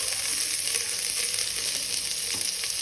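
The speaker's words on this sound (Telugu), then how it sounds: "వేసి మంచిగా ఫ్రై చేయాలి" Ginger garlic paste with coriander and mint leaves fries in hot oil over browned onions for chicken pulao, giving a loud, steady sizzle with small crackles throughout and no voices.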